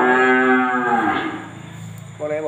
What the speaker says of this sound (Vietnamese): Bò này bò BF2 nè.